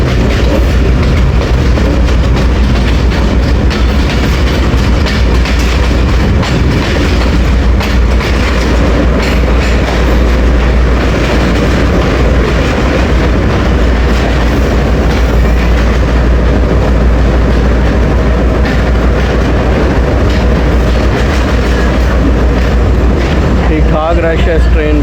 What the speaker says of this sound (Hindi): सात बज के 25 मिनट में मंडी बहाउद्दीन पहुंच गई है 2 डाउन शटल ट्रेन।